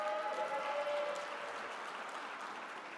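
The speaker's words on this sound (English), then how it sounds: "round of applause" An audience at a presidential inauguration gives a steady round of applause, a dense wash of clapping at moderate distance that holds evenly and fades slightly toward the end.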